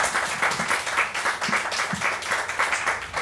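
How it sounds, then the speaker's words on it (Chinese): Audience applause at the close of a design-education talk, steady dense clapping filling the room evenly for a few seconds with no voices over it. "那掌声，谢谢"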